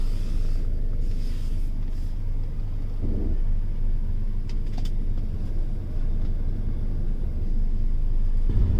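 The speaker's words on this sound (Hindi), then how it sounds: "ट्रैफिक बड़ी है।" Low, steady rumble of road traffic heard from inside a taxi in Bali, with a constant engine and tyre drone and a few faint higher clicks, no talking.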